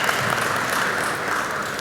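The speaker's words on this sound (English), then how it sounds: "Clap it for Poultry India" An audience at a poultry industry event applauds in a dense, even wash of clapping that holds steady throughout.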